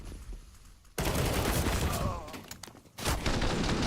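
Dense rifle fire in a Counter-Strike pro match, M4 rifles rattling in overlapping bursts, loud and close, breaking off briefly and then resuming.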